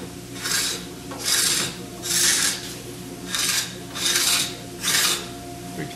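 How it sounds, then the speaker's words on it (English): A cabinet scraper drawn along the sharp edge of a wooden molding, giving six steady rasping strokes at an even rhythm, close and distinct with no talk. "I'm going to take this scraper and I'm just going to work that sharp edge down."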